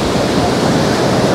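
Sea waves wash onto the sand at Koko Beach in Dar es Salaam, a steady, loud, continuous surf roar that fills the whole moment without any break.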